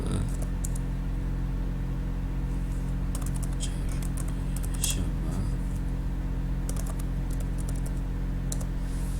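Clicky computer keyboard typing in bursts while entering weekday names into an Excel spreadsheet, quick irregular keystrokes close by over a steady low hum, with quiet gaps between runs.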